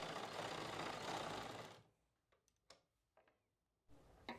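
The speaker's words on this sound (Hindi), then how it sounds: "इस वाली जगह से यहाँ तक सिलाई लगानी है" A sewing machine runs steadily as it stitches a pocket onto soft fabric palazzo pants, a dense continuous whir for about two seconds, then stops, leaving quiet handling clicks and a brief restart near the end.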